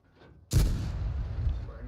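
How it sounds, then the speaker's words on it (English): A tank cannon round fired at a Jagdpanzer in World of Tanks, a single heavy boom that bursts in suddenly after a quiet lead-in and rolls on as a dense, lingering rumble. "Second shot bounces, because it's a Jagdpanzer."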